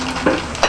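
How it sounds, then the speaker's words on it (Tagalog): Water boiling in a cooking pot on a stove, a steady close bubbling hiss that swells in two brief louder surges. "Bumukal na."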